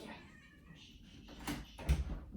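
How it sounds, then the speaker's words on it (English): A house cat named Lulu meows a couple of times, faint and somewhat distant, over a quiet indoor background with no talking. "Maybe that was the cat making the noise."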